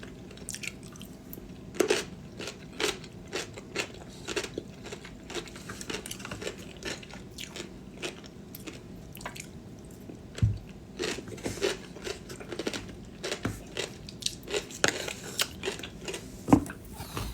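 Crunchy food being bitten and chewed close to the mic, a quick irregular run of sharp crisp crunches that continues throughout, with no talk over it.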